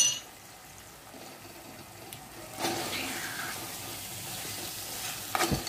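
Kolhapuri chicken is stirred and fried with masala in a mud pot, giving a soft sizzle with scraping stir sounds that swell louder partway through.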